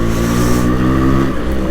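A Yamaha RX135 motorcycle is ridden, its engine droning steadily and loudly up close with a strong buzzing tone throughout.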